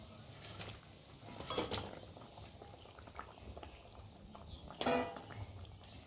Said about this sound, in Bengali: দেখো খুন্তি দিয়ে ভালো করে মাছগুলোকে ঝোলের মধ্যে একটু ডুবিয়ে দিলাম